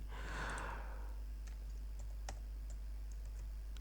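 Computer keyboard typing as Ctrl-V and Enter are pressed, a few scattered sharp key clicks over a low steady hum, close and quiet with no talking.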